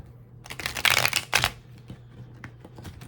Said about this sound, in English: I'm gonna shuffle this a little bit more.